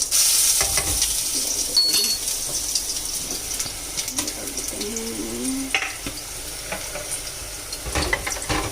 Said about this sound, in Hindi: तेल हो चुका है गरम और डाल देते हैं जीरा